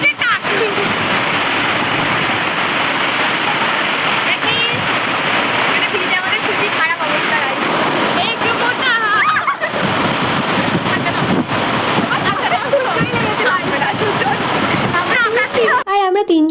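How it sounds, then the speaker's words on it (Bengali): Heavy rain pours down at a railway station as a loud, continuous wash of hiss with wind-like buffeting. Voices talk underneath it. "স্টেশনে ঢুকতেই ব্যাস এত জোরে বৃষ্টি স্টার্ট হয়ে যায়"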